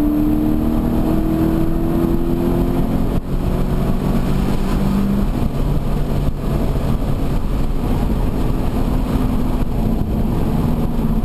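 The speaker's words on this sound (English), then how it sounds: "Allow the car to set, balance it through, and now go. Up to the finish line." A Toyota GT86 accelerates hard up the Goodwood hill climb, its engine loud and close with rising pitch sweeps through the gears and steady wind and road roar throughout.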